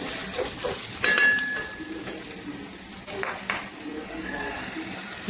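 Long green chili and red onion sautéing in a pan, with a steady sizzle, scraping stirs and light clinks of utensil against pan throughout, fairly close and moderately loud.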